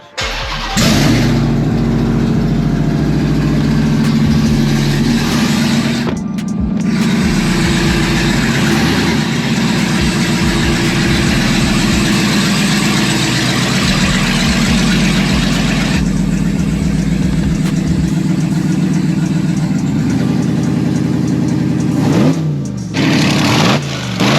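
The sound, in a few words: Dodge Ram TRX engine idling with straight-piped headers, no catalytic converter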